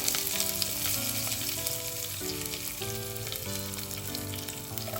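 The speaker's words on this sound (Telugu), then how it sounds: "1/2 టీ స్పూన్ ఆవాలు వేసుకోవాలి, 1/2 టీ స్పూన్ జీలకర్ర వేసుకోవాలి, కొద్దిగా కరివేపాకు" Mustard seeds, cumin and curry leaves fry in hot oil for a vegetable jowar upma, a steady crackling sizzle that sits under music throughout.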